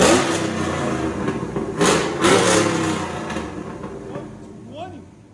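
A cammed Chevy Silverado V8 with headers and a Corsa Extreme exhaust revs up loudly several times, its deep rumble surging and then settling lower, with people talking over it.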